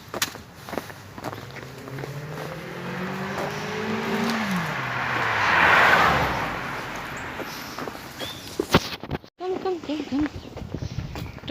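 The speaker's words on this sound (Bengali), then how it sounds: "একটা গাড়ি গেল" A car in an American street on a cold morning swells from a distance, peaks loud as it rushes past and fades, while footsteps tap and a person talks over it.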